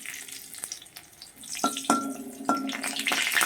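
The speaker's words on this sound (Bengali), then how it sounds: "বেশি জল দিয়ে দিলাম" Water poured into a hot pan with crushed garlic hisses and bubbles up partway through, over quieter earlier sizzling and clinking of a utensil, close by and without talk.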